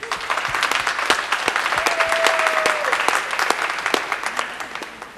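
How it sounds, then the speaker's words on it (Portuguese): A church youth congregation claps together in dense, steady applause that fills a room, loud and sustained throughout, with a brief held voice rising faintly underneath. "vamos dar uma salva de palmas para Jesus."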